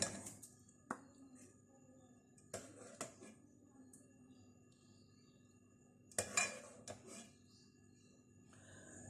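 White chicken karahi being served from the pot, heard as a few separate clinks and scrapes of a spoon against metal cookware spread across a quiet room, with long near-silent gaps between them.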